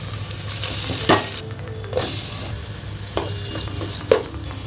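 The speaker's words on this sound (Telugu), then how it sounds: "ఇప్పుడు ఇందులోకి అల్లం వెల్లుల్లి పేస్ట్ ఇది కొంచెం పచ్చివాసన పోయే వరకు వేపుకొని" Onions and ginger garlic paste frying in a pan for a vegetable dum biryani, a steady close sizzle broken by a few scraping stirs, with no voices.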